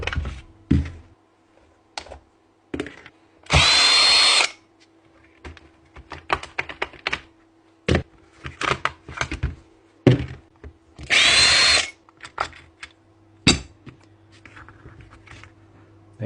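A Dewalt 18V cordless SDS rotary hammer drill that has lost its hammer action spins up in two loud bursts of about a second each, between scattered clicks and handling knocks close by.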